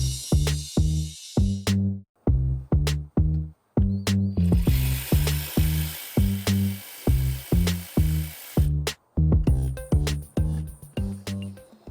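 Ratchet clicking rapidly in repeated bursts while loosening bolts on the oil filter housing of a BMW M54 inline-six engine, close and loud, with short pauses between runs of turns.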